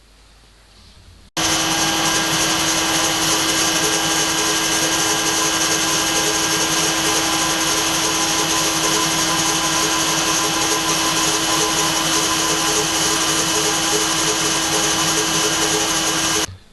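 A drill bores steadily through metal roller block arms, starting abruptly after a quiet moment and running as a loud, continuous whine for about fifteen seconds before stopping.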